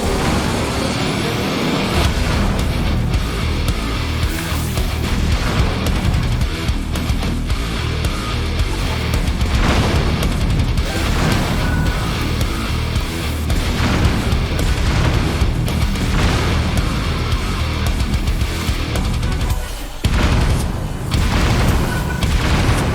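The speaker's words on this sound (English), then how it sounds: "it's the perfect opportunity to break out the Battle Korok. And this time I've amended the design to include rear cannons." Battle Korok vehicle in Zelda: Tears of the Kingdom firing its rear cannons, a dense run of loud booms over a constant engine-like rumble, steady and close throughout.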